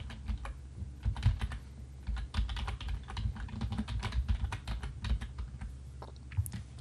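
Steady run of keyboard typing at close range, quick irregular key clicks with brief pauses, no voices.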